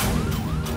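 A short burst of a police siren wailing, its pitch sweeping up and down over a rumbling background.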